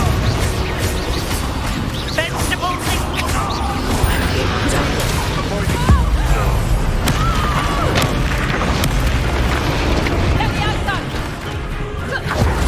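Bombarda explosion spells from Hogwarts Legacy burst in a dense, continuous barrage of booms and crashes mixed with other combat effects, loud and busy throughout, with a voice speaking over the game action.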